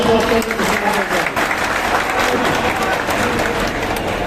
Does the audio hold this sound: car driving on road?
no